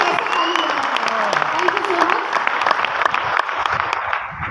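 Loud, dense clapping from an audience at a direct-selling motivational event, sustained steadily across the whole stretch, with a speaking voice running underneath.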